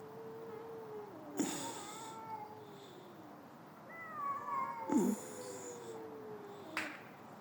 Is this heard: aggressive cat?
yes